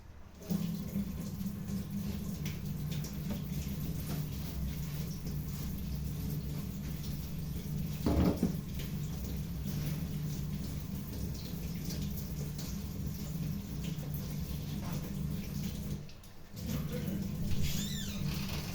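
Water runs steadily from a tap in a home kitchen while a cooking griddle (tawa) is cleaned, a continuous broadband wash with a brief splash burst midway and a short pause near the end.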